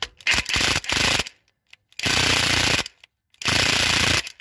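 A Ryobi cordless power tool straining to remove tight bolts on a 2002 PT Cruiser, in three loud close bursts of buzzing, rattling motor running separated by short pauses.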